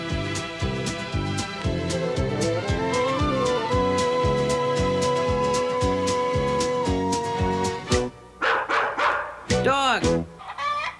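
Upbeat music with a steady beat plays for most of the stretch, then gives way to a few loud, close dog barks near the end.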